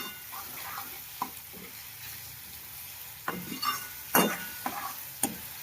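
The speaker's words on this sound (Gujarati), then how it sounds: "હવે ટમેટાને આપણે 3-4 મિનિટ પકાવવા દેવું" Tomatoes cooking in a pan for a peanut bhajiya curry, a soft steady sizzle with occasional sharp clinks and scrapes of a spoon stirring against the pan, close and fairly quiet.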